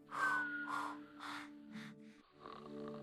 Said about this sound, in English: He's still snoring.